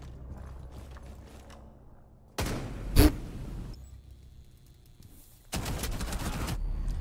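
Gun hip-fired in a first-person video game: a sharp loud shot burst near the start, then a longer stretch of rapid fire toward the end, over a low background hum.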